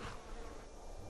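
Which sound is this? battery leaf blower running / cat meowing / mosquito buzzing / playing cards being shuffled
mosquito buzzing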